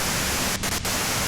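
Dense white-noise static hisses continuously from the video game Disco Elysium: The Final Cut, loud and unbroken apart from two tiny dropouts, with no voices.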